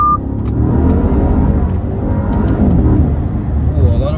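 A Maserati Quattroporte Trofeo 580 hp sedan engine roars loudly and steadily, revving hard as it accelerates with wheel spin up close, with a constant heavy rumble throughout.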